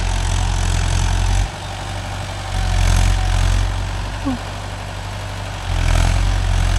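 Mahindra Yuvo Tech Plus 585 DI 4WD tractor pulling a 9-tine cultivator, its diesel engine running steadily with a deep low rumble that dips and swells slightly, loud and close throughout.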